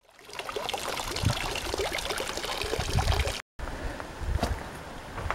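Water from the Fonte Docán spring fountain pours and trickles continuously, loud and close, with a short break partway through.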